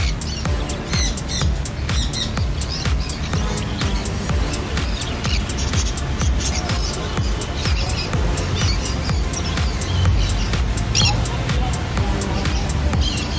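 Many birds in a bird shop chirp and squawk continuously and densely, close by, with a steady murmur of background noise underneath.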